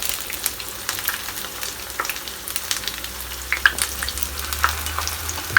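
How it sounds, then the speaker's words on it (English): Jamaican fritters sizzle steadily in hot oil, a soft continuous crackle with occasional small pops, close up and with no talking. "this has been frying for the last 2 minutes."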